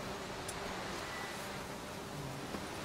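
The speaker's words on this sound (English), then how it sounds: "Ah, bees." A steady, droning buzz of bees in the video game Witcher 3 fills the whole stretch, fairly constant with a hissy, noisy texture and no talking.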